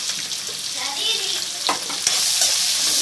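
Onions, green chillies and curry leaves frying in hot oil in a pan, with a steady close sizzle and a couple of sharp stirring scrapes partway through.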